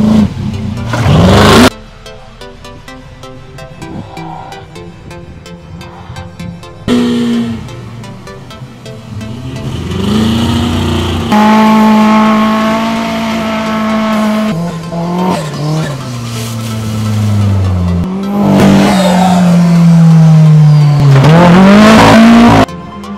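Off-road race car engine at a Queensland short-course championship, revving loudly and continuously with rising and falling pitch, sharp throttle blips and a tire skid, close and dominant throughout.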